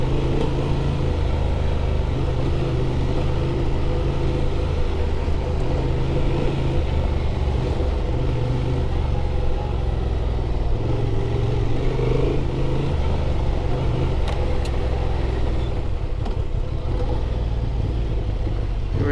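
A 2024 Honda Transalp XL 750 ridden through desert sand gives a loud, steady engine drone with deep low rumble and wind buffeting, continuous throughout with only small shifts in pitch, no voices.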